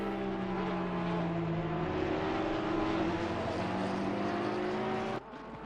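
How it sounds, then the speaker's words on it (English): McLaren race car in the Assetto Corsa Competizione racing game at Zandvoort, a continuous loud engine drone holding a steady pitch with slight rises, cutting off abruptly near the end. "Anthony Anderson back on track in that fancy Pepsi McLaren."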